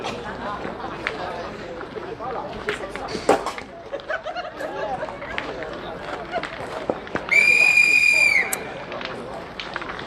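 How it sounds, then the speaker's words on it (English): A referee's whistle starts a rugby match with one long, piercing blast lasting about a second, standing out over steady crowd chatter and background talk. "There's the whistle."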